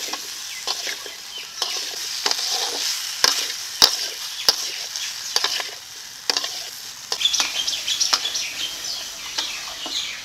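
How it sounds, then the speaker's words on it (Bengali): Spices with salt and turmeric sautéed in a pan for a Bengali pumpkin curry with prawns, a bright steady sizzle with repeated sharp spatula taps and scrapes, close and fairly loud, with faint birdsong behind and no speech. "এখন ভালো করে কষিয়ে নেব।"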